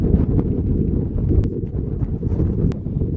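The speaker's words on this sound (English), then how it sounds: "It was windy, it was raining" Strong wind buffets an outdoor microphone in rainy, stormy weather, a dense low roar with gusty rumble and no voices.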